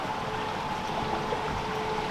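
Water rushes along a stream beside a former Victorian pin mill in Dursley, making a steady, dense, close flowing roar with no break.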